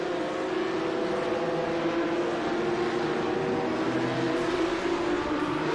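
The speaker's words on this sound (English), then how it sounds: "Like an F3 or an F4 kind of engine noise." An F3/F4-style race car engine in iRacing drones steadily and loudly throughout, a continuous high-pitched formula-type whine with no talk over it.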